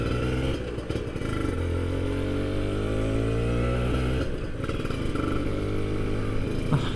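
A Kawasaki Ninja RR Special Edition from 2011 is ridden on a test ride, its engine loud and near, revving and climbing in pitch through repeated accelerations with brief drops between.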